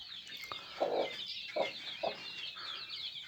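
A broody hen whose chicks have just hatched clucks in short, separate bursts, three or four soft clucks close by over a faint background of other bird chirps.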